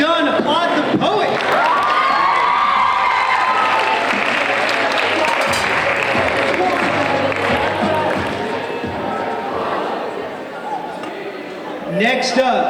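A high school audience at a ninth-grade poetry slam applauds a poet with loud, sustained clapping and some cheering that slowly thins out, then swells briefly again at the very end.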